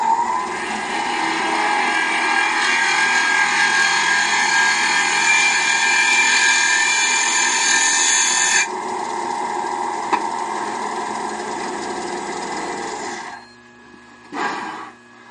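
Wood lathe tool taking a lighter, slower finishing cut on a tall thin-stemmed goblet: a steady, loud whirring hiss of turning and cutting that drops off partway, then continues more quietly before stopping, with a brief burst near the end.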